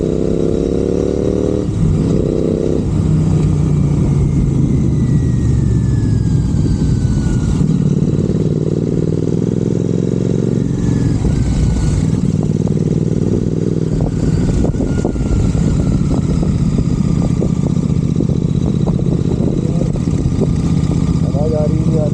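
Royal Enfield GT650 motorcycle engine running while cruising, a steady mid-pitched drone with shifting revs held throughout, with voices talking over it at times.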